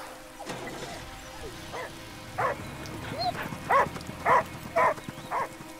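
A dog in the video game Last Day of June gives a string of five or six short barks that grow louder toward the end, heard over a low ambient game backdrop.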